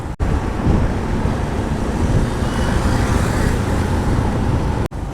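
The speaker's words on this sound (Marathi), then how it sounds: "जे विचार केलेला तेच झालं यार ट्रॅफिक मिळाली शेवटी" Continuous road traffic noise on a busy road on the ride from Mumbai to Konkan, a steady broadband roar of passing vehicles with wind buffeting, loud and close, without speech.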